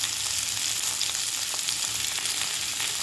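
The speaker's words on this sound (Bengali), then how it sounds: "এবারে কুমড়ো আলু হালকা করে ভেজে নিলাম।" Pumpkin and potato fry lightly in a pan, giving a close, steady sizzle with faint crackles and a hint of stirring throughout a few seconds, no voices over it.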